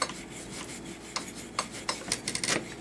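Old thermal paste being scrubbed off an Xbox 360 part, a dry rasping rub in short close strokes that grow busier toward the end, with no talking.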